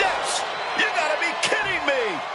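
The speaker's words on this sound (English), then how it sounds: "You heard the thud on the steps." A wrestler is slammed onto steel ring steps in the WWE 2K26 video game, landing with a heavy thud among several sharp impacts over a dense, noisy game background.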